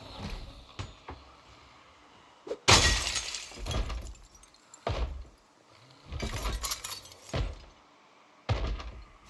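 Window glass shattering in the zombie survival game Project Zomboid, a sharp crash followed by scattered smaller breaks and thuds spread across several seconds, fairly quiet overall with no talking.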